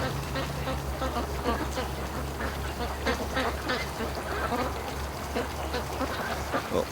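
Free-range ducks quacking down the slope outdoors on a warm day, a dense, continuous chatter of overlapping calls at moderate distance over a steady low hum, with faint talk now and then.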